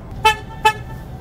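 Two short, loud car horn toots, evenly spaced, sound from an autonomous bus in New York City traffic.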